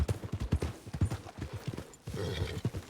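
A horse's hooves clip-clop at a steady walking rhythm in Red Dead Redemption 2, close and clear. The regular beats pause briefly, then resume under a soft snort or whinny.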